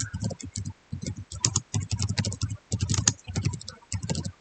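Code is typed on a computer keyboard during an informatics lesson, with rapid, close key clacks in uneven bursts and brief pauses, and no speech.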